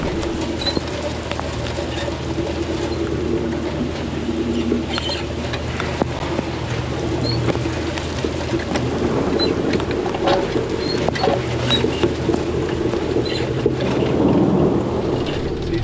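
Rainstorm with thunder: a steady roar of rain, low rumbling, and occasional sharp cracks, loud and continuous outdoors with no speech.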